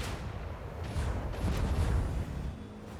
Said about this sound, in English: Macro cannons, open fire!